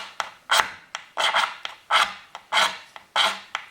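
Rasping scrapes of a blade against a magnesium fire-starter block, about seven short strokes in an uneven rhythm, close and fairly loud with brief pauses between strokes.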